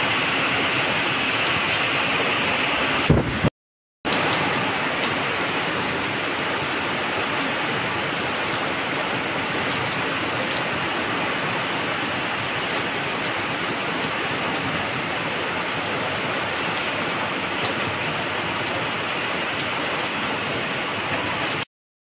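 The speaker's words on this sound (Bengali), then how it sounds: "এই যে বাইরেটায় দাঁড়িয়ে আছি, বৃষ্টি দেখছি আর ভিডিও করছি।" Steady monsoon rain pours down outdoors in a dense, unbroken hiss, loud and close throughout, with a brief break in the sound early on.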